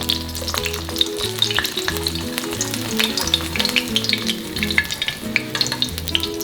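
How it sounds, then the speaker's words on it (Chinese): A fried egg sizzles loudly in oil in a pan, with a dense, crackling fry and repeated scraping strokes as hot oil is spooned over the yolk, close and continuous with no talking. "我边煎荷包蛋，我都会把旁边这个油拨到蛋黄上，它很快就会熟了"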